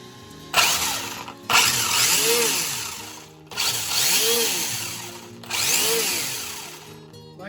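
A WLtoys 104001 RC car's electric motor and spur-gear drivetrain whines in four bursts, each rising and falling in pitch, with short pauses between runs; loud and close, no talk.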